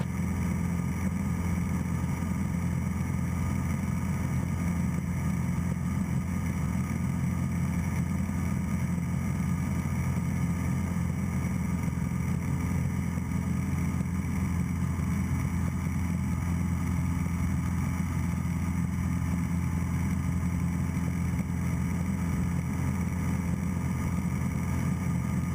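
Steady, droning piston engine of a Cessna light aircraft in flight near an airfield, heard continuously from inside the cabin as a low, even hum with no talk.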